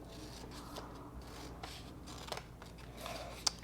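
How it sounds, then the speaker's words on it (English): Scissors trim the end off a piece of fleece fabric, giving faint, soft snipping and rustling close by in a quiet room, with a small sharp click near the end. "And I'm going to just trim off the end here."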